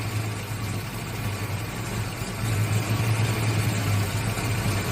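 A 1986 Ford Mustang engine at low idle, a steady low rumble with constant vibration that grows a little louder and rougher partway through, with no talking.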